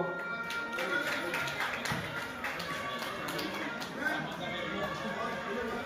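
An audience claps at a local political gathering, a dense, steady patter of hands that keeps going throughout, with chatter and voices mixed in underneath.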